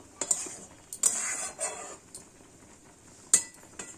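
A spoon stirs jujube (kul) chutney with roasted spices in a pot on a gas stove. Several sharp metallic clinks against the pot sit among soft scraping, close by, with no talking.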